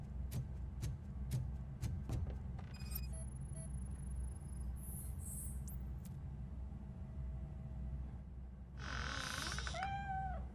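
A cat in RoboCop: Rogue City gives a short, wavering meow near the end, over a steady low game hum, after scattered ticks and clicks earlier on.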